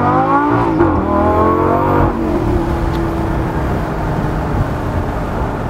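Revving engine of a 2010 Lamborghini Gallardo LP560-4 Spider, a loud rising howl that peaks in the first two seconds, then settles into a steady drone as the car drives off.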